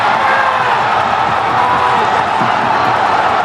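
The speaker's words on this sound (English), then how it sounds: "Look, just listen to the roar from the crowd." Loud, continuous roar of a cricket crowd at a Hong Kong Sixes final between Pakistan and Sri Lanka, dense cheering and whooping with scattered claps filling the whole stretch.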